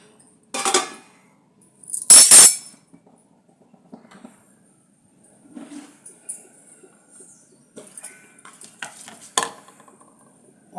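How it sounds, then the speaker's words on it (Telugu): Brinjal pieces cooking in a pan are stirred in a few sharp scraping bursts, with quiet gaps between them and softer clinks and stirring toward the end. "వంకాయ ముక్కల్లా ఉడుకుతున్నాయండి."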